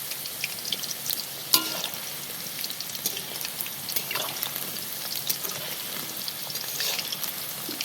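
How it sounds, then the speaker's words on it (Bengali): Chicken pakora fries in hot oil while being stirred, giving a steady close crackle and sizzle with a sharp scrape of the utensil partway through and small knocks of movement throughout. "পকোড়াগুলোকে এবার আমি ভালো করে নেড়ে নেব।"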